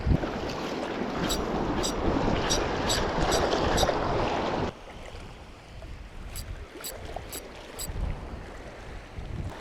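Strong wind at a beach near a campground during squid fishing, a dense continuous rush of gusting wind noise with surf, loud for the first half and then easing to a lower roar.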